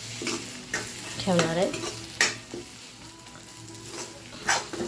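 Fresh cleaned tur pods being stirred in a hot pan, close scraping strokes with a lively sizzle underneath, while someone speaks briefly over it.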